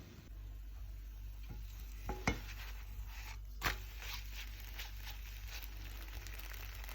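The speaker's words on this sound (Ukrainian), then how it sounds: "І будемо зараз смажити млинці." Pancakes fry with soft, steady sizzling in a pan throughout, with a couple of faint scrapes and taps of a utensil.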